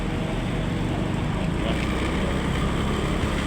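A Motorstar motorcycle engine runs steadily and close, a continuous rumbling drone with no pauses, on a hot day.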